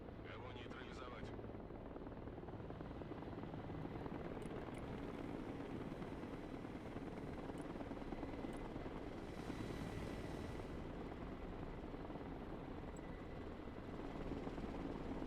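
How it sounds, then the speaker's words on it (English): A helicopter in the war game Broken Arrow drones steadily at a constant, fairly faint level throughout, with a broad rotor-and-engine wash and no clear changes. "We'll bring in the helicopter."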